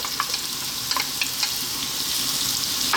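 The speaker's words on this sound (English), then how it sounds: "We're now going to drop in our onion." Onion dropped into a pan of frying potatoes for a spinach potato curry, a steady loud sizzle with soft crackles and pops throughout.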